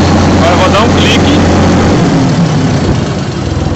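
Massey Ferguson 4292 Xtra tractor engine idling after the throttle is released, a steady close diesel drone whose low hum drops in pitch partway through, with a voice talking briefly over it.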